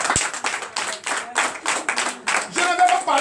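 Worshippers at a Sunday church service clap rhythmically in acclamation, dense group handclaps in a regular beat, with faint voices and a brief tone rising beneath them.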